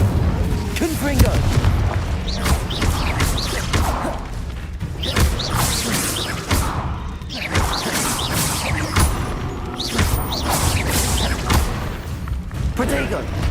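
Fiery Incendio and Confringo spell blasts from Hogwarts Legacy, layered as dense, continuous booms and crashes, loud and close, with voices sounding over the action.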